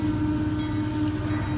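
A train passing close by outdoors during railfanning, a steady loud rumble with a low sustained hum, continuous and without gaps.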